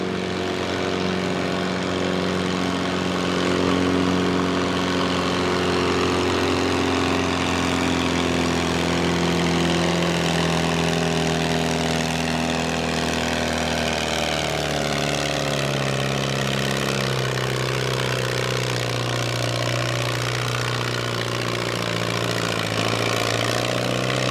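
A pulling tractor's engine runs steadily at a Langford, New York tractor pull, a loud, continuous mid-range drone with stacked harmonics that shift gradually in pitch throughout, with no talk over it.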